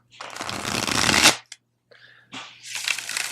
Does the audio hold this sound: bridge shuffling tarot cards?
yes